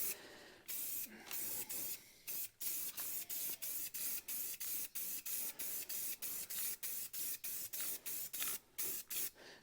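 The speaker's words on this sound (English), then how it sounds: "So I'm going to fog a coat on here and let her tack up." A spray can lays a chrome coat on a 1940 Mercury grill in hot, humid weather, heard as a rapid series of close, hissing bursts separated by short pauses, with no talking.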